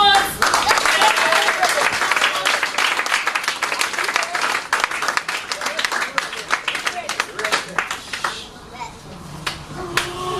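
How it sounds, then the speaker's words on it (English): An audience at a Naturally You Day 2013 talk applauds continuously for about ten seconds, a dense, loud patter of many hands that thins toward the end, with children's voices mixed in. "Round of applause!"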